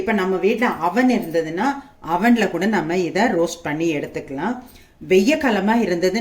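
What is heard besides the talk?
No distinct noise like a dog, phone or traffic.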